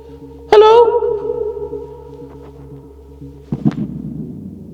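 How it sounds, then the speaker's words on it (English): A sharp vocal shout inside an abandoned asylum building rings out and hangs in a long, hollow reverberating tail, followed a few seconds later by a second, shorter echoing call. "Oh, that echo is so strange"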